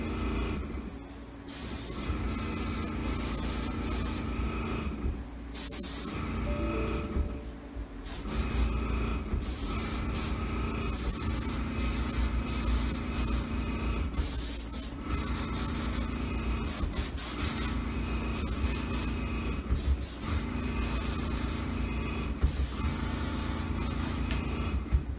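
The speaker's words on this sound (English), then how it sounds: "I can turn this airbrush off." An airbrush sprays ivory colour onto a pineapple cake, blending its green and yellow, with a steady loud hiss running almost continuously, broken by a few brief pauses.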